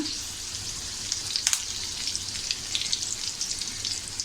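Curry leaves drop into hot oil with cumin for a tempering over low flame, giving a steady, fairly soft crackling sizzle with a brief sharper burst early on.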